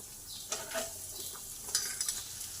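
Carrots stirred in a pan of hot oil with bay leaves and chillies for a vegetable chop: a soft steady sizzle with scraping stir strokes around half a second and again near the end, fairly quiet and with no talking.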